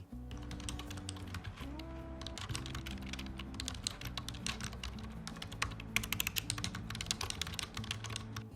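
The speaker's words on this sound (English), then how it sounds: "let's just hear how this keyboard sounds" Typing on a Xiaomi chiclet keyboard, a steady run of soft, slightly mushy key presses close up, continuing for several seconds with no voices.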